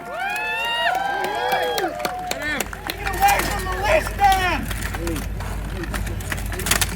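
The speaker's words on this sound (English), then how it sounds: "crowd, let's give him some encouragement" Spectators at a buhurt armored combat bout at a Viking festival in South Australia shout and cheer, a swelling mix of whoops, yells and crowd babble with a commentator talking over it.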